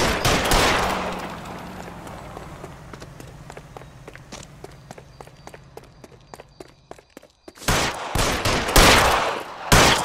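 Gunfire in the L.A. Noire video game: loud close shots burst at the start, a run of quick footsteps and clicks patters in between, then another volley of heavy shots erupts near the end.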